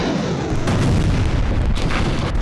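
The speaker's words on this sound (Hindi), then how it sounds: "जिसमें कंक्रीट की दीवार चीरकर बंकर बस्टर बम अंदर जाता है और फिर एक जोरदार धमाके के साथ फट जाता है।" A GBU-57 bunker buster bomb punches through a concrete wall and detonates, producing a loud, continuous rumbling roar of blast noise that holds steady throughout with scattered crackling bursts.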